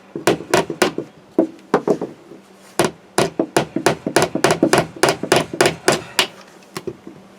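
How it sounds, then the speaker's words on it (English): Hammer blows drive nails into a wooden back step, a long run of sharp, close, loud strikes in quick irregular bursts with brief pauses between groups. "hammer my nails"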